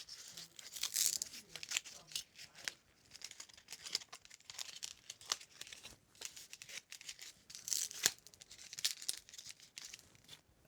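Electrical tape tearing and crinkling while a split-ash Gustoweh hat frame is taped at its intersections, repeated short rips and rustles at close range, fairly quiet, no talk.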